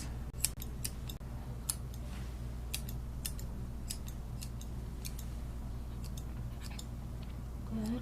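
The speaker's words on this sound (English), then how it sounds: "using the scissors up and down, not across this way." Crisp scissor snips trimming a Maltese puppy's fur come in irregular bursts, close and distinct, over a low steady background hum.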